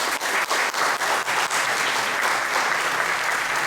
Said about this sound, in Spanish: para el que pido un aplauso de bienvenida